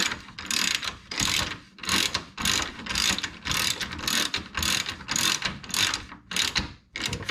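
Rapid clicking of a Craftsman ratchet's pawl, coming in about a dozen quick bursts with short gaps between them, close and fairly loud with no talk.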